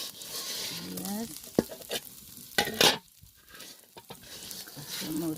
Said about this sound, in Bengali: আবার ভাজা ভাজা করে শুকনো শুকনো করে শুরু করুন। হালকা ভেজে নিলাম।